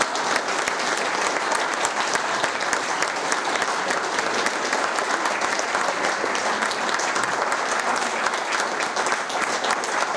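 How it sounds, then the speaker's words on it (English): Audience applause at a festival talk event, dense continuous clapping from a large crowd, steady and loud for the full length with no voices standing out. "Can we go round of applause for Priti?"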